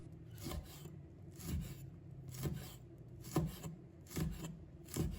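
A kitchen knife slices small chili peppers into rings on a board, about six soft, evenly spaced chopping strokes with a light rasping cut between them, close and fairly quiet.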